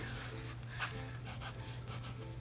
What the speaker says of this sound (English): I think we're going to draw the hairline here.